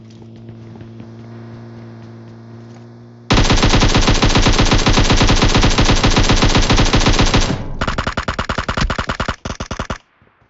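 Loud, close automatic gunfire from PUBG Mobile rattles in a long rapid burst, a brief pause, then a second burst, following a quieter stretch of low game background hum.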